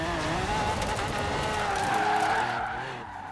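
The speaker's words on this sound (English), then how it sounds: "Doing a little bit of off-roading, a little bit of airborne action here." In Forza Horizon, a Lamborghini Aventador SV goes off-road with a close engine roar and sustained tire skidding. The engine tone rises and falls as the car slides, then fades slightly.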